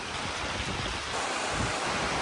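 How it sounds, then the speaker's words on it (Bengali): Steady rain falling during a sudden daytime darkening, a continuous even hiss of drops close around with no voices. "বৃষ্টি শুরু হয়ে গেছে আগে একটু কম ছিল এখন একটু বেশি"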